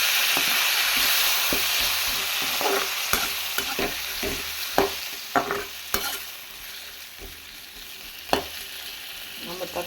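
Tomatoes sautéing and being stirred in a pan for bitter gourd vatha kuzhambu, a steady sizzling fry with repeated scraping stir strokes, close and clear with no talking.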